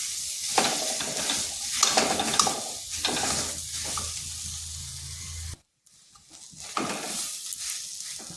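Mashed boiled potato is mixed with spices in a pan, giving a continuous rough scraping and sizzling texture with several louder stirring strokes, a brief silent gap, then stirring resumes; no one speaks.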